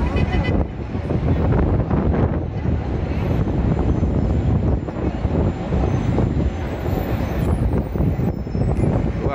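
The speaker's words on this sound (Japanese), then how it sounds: "すごい強い風が吹いてますね。" Strong wind buffeting the microphone in Times Square, New York, a loud continuous roar with gusty swells filling the whole stretch, under faint city noise.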